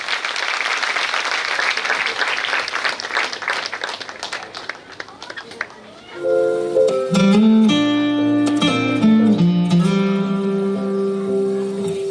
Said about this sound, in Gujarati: એટલે આ મમ્મીઓ માટે ફરી એકવાર જોરદાર તાળીઓ.